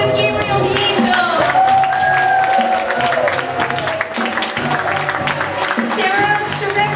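An audience at a puppet-making workshop graduation claps steadily, with voices and chatter mixed through the applause from start to finish.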